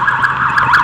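Emergency sirens wail outdoors in a bushy area near buildings, a steady tonal wail sounding continuously for under a second at moderate loudness with no talk.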